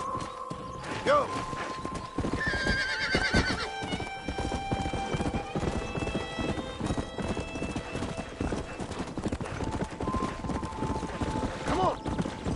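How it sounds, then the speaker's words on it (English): In the video game Red Dead Redemption, hooves clatter in a fast galloping rhythm while wild horses neigh and whinny several times, loud and close, over a steady busy background. "That ranch hand said there's a pack of wild horses nearby."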